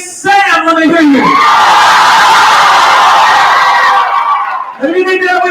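Audience members shout, whoop and scream to back a contestant, a loud sustained crowd roar bracketed by a host talking at the start and end.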